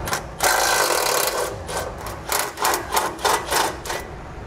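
13mm bolts coming off a steering stabilizer bracket inside a vehicle frame, heard as close, loud ratcheting and scraping metal, first a steady stretch and then a series of quick rhythmic bursts, with no voices.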